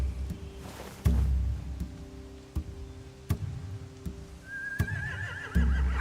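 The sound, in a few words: horses neighing in The Walking Dead video game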